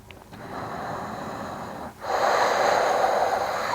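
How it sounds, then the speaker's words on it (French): Deep breathing during a vinyasa morning yoga session: one slow, airy inhale followed by a longer, stronger exhale, close and with no talking. "Une dernière respiration."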